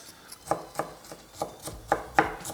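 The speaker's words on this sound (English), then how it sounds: "And I have some chive here. Just cutting off the ends." A knife chops the ends off chives on a cutting board in about nine crisp, evenly spaced strokes, close and clear, with no talk.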